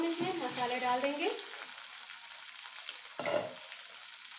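Ivy gourd frying in a pan over medium heat, a steady close sizzle with stirring scrapes at the start and again near the end.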